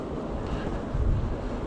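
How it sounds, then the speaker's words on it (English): A cold east wind blows on the coast near Swanage and Sandbanks in Dorset, buffeting the microphone with a rough, low rumbling gust that swells near the end of a short stretch. "The wind is blowing from the east and it's really cold."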